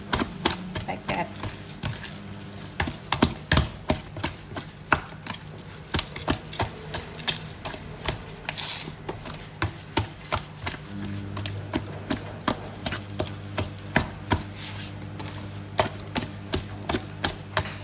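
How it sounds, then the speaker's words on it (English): Wet, very slack 95% hydration sourdough dough worked by hand, giving a steady run of sticky slaps and squelches in a quick repeating rhythm, close and fairly loud with no talking. "So on first mix, I gonna try to mix this well,"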